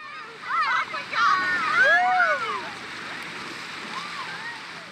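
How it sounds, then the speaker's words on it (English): River water rushes and splashes steadily while rafting on the Eagle River near Wolcott, Colorado, with excited children's voices and squeals rising over the water early on. "We're floating the Eagle River just south of Wilcot,"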